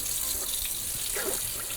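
A kitchen-style sink tap runs steadily to rinse out dirty wash water left from hand-washing a wool sweater, a faint even hiss of flowing water with small splashy bursts and no talking.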